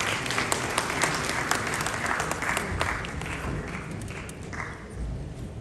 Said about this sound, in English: Please, a round of applause once again for Baba Sadiq Abdullahi.